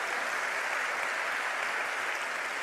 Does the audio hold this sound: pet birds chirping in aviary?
no